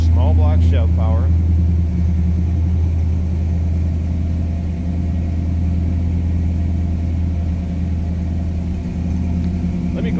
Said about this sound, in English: we'll check it out in the low idle. Nice little rumble to it.